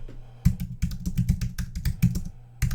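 A computer keyboard clatters with rapid, uneven clusters of keystrokes. The typing is fairly loud and close, with a short pause before a final burst, and no speech.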